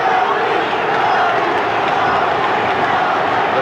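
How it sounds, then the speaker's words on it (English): A boxing crowd cheers its champion at a bout featuring Tony Lopez and John John Molina, a loud, steady roar of voices that fills the whole stretch without pause. "The crowd exhorting their champion"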